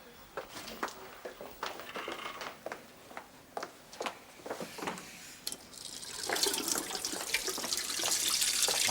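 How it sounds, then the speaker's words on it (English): Cold water from a tap starts after a series of clicks and clatter, then flows as a steady, moderately loud rush for the last few seconds. "I'm just running some cold water on my wrists."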